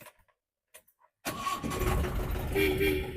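After a few faint clicks and a short silence, a 1999 five-gear Jeep with an MDI engine cranks and catches, settling into a loud, rough idle close by.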